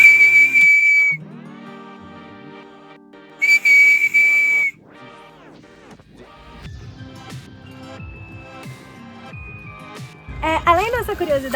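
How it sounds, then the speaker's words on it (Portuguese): A monkey whistle fruit (apito de macaco) is blown in a forest park, giving clear, steady whistle tones in two bursts, close and loud, with people talking between and after the blasts. "O nome conhecido dele é apito de macaco, que ele faz um barulhinho diferente."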